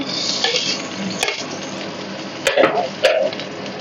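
Chopped garlic, onion and ginger hit a hot kadai, sizzling steadily while a metal spoon clanks and scrapes against the pan in several sharp knocks.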